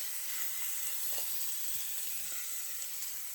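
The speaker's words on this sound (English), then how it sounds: "Here are my short ribs, searing up nicely" Short ribs sear in a pan over medium-high heat, giving a steady, close, even sizzle and hiss that runs the whole way through with a few faint pops and no talk.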